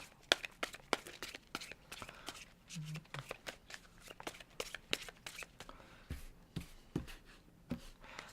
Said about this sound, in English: So now let's shuffle this deck.